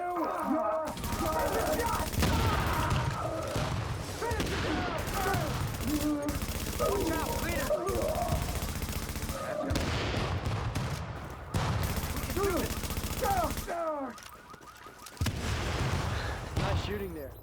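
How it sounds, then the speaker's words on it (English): Dense gunfire and explosions fill a video game battle, with rapid overlapping bursts that continue almost without a break. Voices talk over the shooting throughout. "Nice shooting there."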